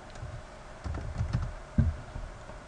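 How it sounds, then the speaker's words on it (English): Quiet typing on a computer keyboard, a few soft clusters of keystrokes with brief pauses in a quiet room and no talk. "For both of these, you type in true"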